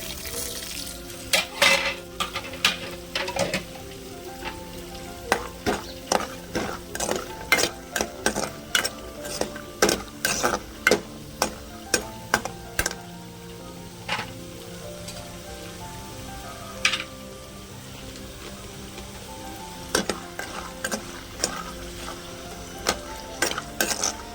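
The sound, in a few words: vadiyalu sizzling while frying in oil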